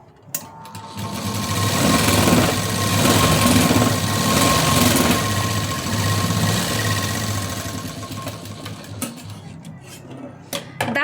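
A sewing machine runs steadily, topstitching a pressed seam margin onto the lower cross strip of a garment, its fast mechanical hum continuing for most of the stretch before slowing and stopping near the end.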